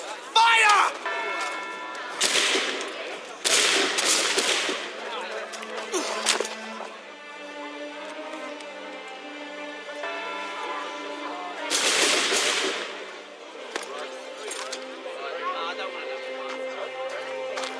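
Musket volleys crack out in Assassin's Creed 3, several loud bursts of gunfire spaced across the scene with ringing music and voices between them.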